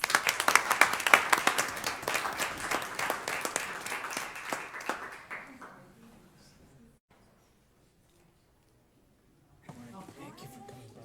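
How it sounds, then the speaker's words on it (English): Audience applause at a county commissioners court meeting, dense clapping that fades out over about six seconds, followed by silence and then faint talk. "A round of applause for them, please."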